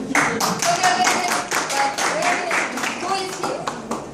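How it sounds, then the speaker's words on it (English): An audience claps, a dense burst of hand claps lasting several seconds, with voices calling out among them. "let's receive him with a lot of applause"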